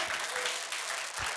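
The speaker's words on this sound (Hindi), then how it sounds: "ताली बजाओ जोर से।" An audience at a Hindi-language church service claps in a dense, steady burst of applause, loud and continuous with no voices over it.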